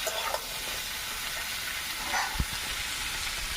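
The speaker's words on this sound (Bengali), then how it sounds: "দিয়ে একটু নাড়াচাড়া করে নেব" Vegetables for shukto, a Bengali mixed-vegetable dish, being stirred in a pan, with a steady sizzle and hiss under soft intermittent scrapes and one sharper knock of the spoon near the end.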